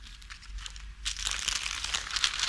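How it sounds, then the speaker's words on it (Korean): Clear plastic wrap crinkles around a flower bouquet during floral arranging, a quiet, close rustle that grows busier and denser after the first second. "이렇게 한 다음에 투명 비닐을 넣고 다시 한번"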